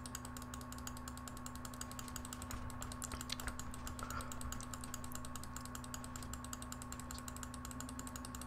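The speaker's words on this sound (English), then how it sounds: "I'm just rapidly clicking away at where the button's gonna be." A button in a timing-based video game is clicked rapidly and continuously, a dense, steady stream of fast mechanical clicks over a constant electronic hum.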